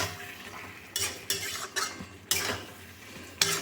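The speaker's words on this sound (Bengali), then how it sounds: "ঢাকা খুলে একটু একটু করে নেড়ে নিচ্ছি" Tomato chutney in a covered pot is stirred with a utensil, producing a handful of distinct scraping clinks against the pot over a faint, continuous cooking hiss, close and fairly quiet.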